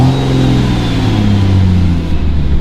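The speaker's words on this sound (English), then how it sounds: "Let's give it a couple revs here." An off-road truck fitted with a roof-mounted curved light bar revs its engine in a steady, loud, close-up drone, its rumbling tone rising slightly and holding throughout with no talking.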